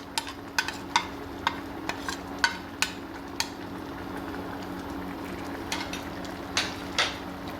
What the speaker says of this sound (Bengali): ছড়িয়ে দেওয়ার পর এবার একটু ভালো করে মিশিয়ে নিচ্ছি